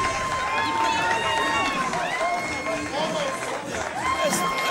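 A standing wrestling crowd in Crystal, Minnesota roars and cheers continuously, dense and loud throughout, with scattered individual shouts rising above the steady mass of voices.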